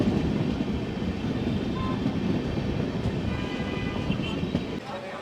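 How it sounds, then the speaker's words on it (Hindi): A Jananayak Express passenger train running from Darbhanga toward Amritsar rolls past, a steady, loud broadband rumble and rattle of carriages that fills the whole stretch without pause. "अभी भाई जननायक एक्सप्रेस जो है पास करी है"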